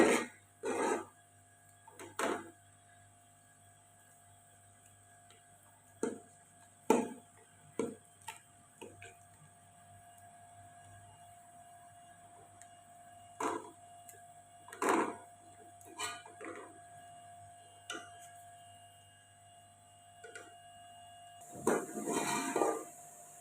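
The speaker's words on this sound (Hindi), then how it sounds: "हमने मक्खन को आग पे रख दिया है, चमचे से ऐसे हिलाते रहेंगे।" A spoon stirs butter in a pot over a flame as it melts down for desi ghee, giving sparse, irregular clicks and scrapes against the metal, fairly quiet, with a faint steady hum underneath.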